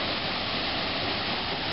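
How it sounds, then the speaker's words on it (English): Waterfall at Temperance River State Park along a rocky river: a steady, dense rushing roar of falling water, constant and close, with no other sounds. "behind me there's another waterfall."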